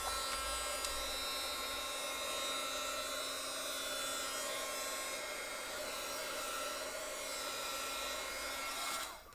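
A heat tool blows steadily over a junk journal page, a constant whirring hum with airy hiss that holds evenly for about nine seconds before cutting off.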